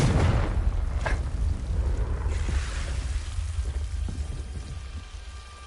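A Confringo blasting spell explodes in the video game Hogwarts Legacy on PS5, a heavy rumbling boom with a crackling burst that slowly decays over several seconds, loud and alone.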